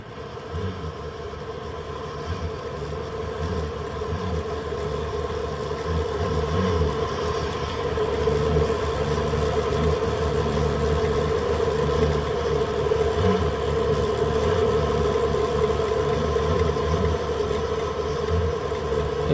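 Taig lathe turning slowly at about 125 RPM while a high-speed steel tool makes a parting cut with tapping fluid, giving a steady, continuous motor hum and grinding drone throughout, growing slightly louder midway, with no talking.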